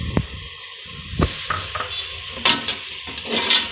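Mutton pieces pre-cooked with ginger and garlic go into a pot of sautéed tomato masala for a pressure cooker dum biryani and are stirred, giving scraping spoon strokes against the pot over a soft sizzle, close and fairly loud.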